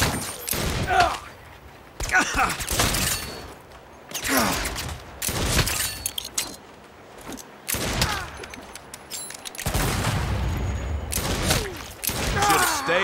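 Bursts of gunfire in the Saints Row video game, a string of loud shots and volleys that repeat in uneven clusters, with a grunt and some talk mixed in among the shooting.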